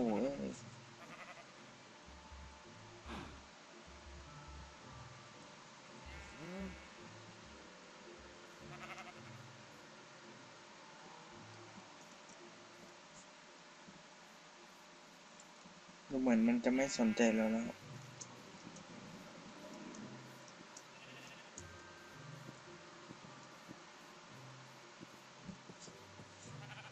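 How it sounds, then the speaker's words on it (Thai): Minecraft sheep bleat now and then in a survival-mode farm, with one loud, close burst standing out among fainter calls, while someone talks quietly over the game sounds. "เอาแกะมาด้วยสิ แกะ นายมาสิ"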